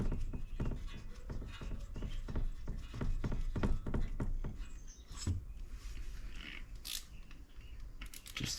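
Rapid ratcheting clicks from a ratchet with an 18 mm socket while servicing a 2003 Yamaha Big Bear ATV, a steady mechanical chatter running close and continuous with brief pauses, no voices.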